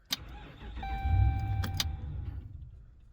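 A car engine is cranked and catches with a brief rumble, then fades out as it fails to keep running. Keys jangle and a steady dashboard chime rings at the same time.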